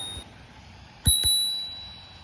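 Bells on Dualtron Togo and Dolphin electric scooters ring twice in quick succession, two sharp close dings whose clear metallic tone keeps ringing and slowly fades in an otherwise quiet space.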